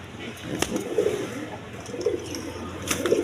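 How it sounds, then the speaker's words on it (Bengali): A pair of white Bombay pigeons coo softly at close range, giving a few soft repeated calls spread across the moment, under a man's speech and some background noise. "দর্শকবৃন্দ এখানে এক পেয়ার আপনার হোয়াইট কালার বোম্বাই কবুতর দেখেন।"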